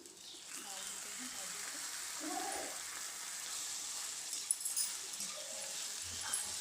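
Boiled karela greens and potatoes fry in a pan with a steady, soft sizzling hiss that runs throughout, while a voice talks faintly over it.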